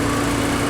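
A car engine fitted with a digital air mass meter runs loud and close as the throttle pedal is opened, a steady, dense drone with a strong hum and no speech.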